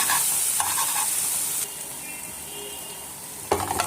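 Garlic sizzles in oil in a pan while it is stirred, for Alexandrian-style liver. A steady hiss stays loud at first, softens partway through, then swells again with a burst of stirring near the end.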